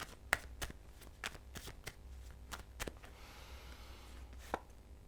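Tarot cards being shuffled in quick sharp riffles and snaps, several crisp bursts spaced irregularly, close by and fairly quiet.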